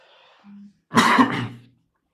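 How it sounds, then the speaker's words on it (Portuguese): A single harsh allergic cough, close and brief, follows a faint short hum, then silence. "Estou com uma tosse alérgica."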